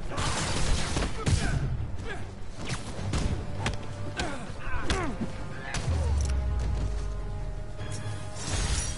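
Gunfire and crashing impacts from the Marvel's Spider-Man video game, scattered bursts and thuds over a steady game soundscape, with people talking over it.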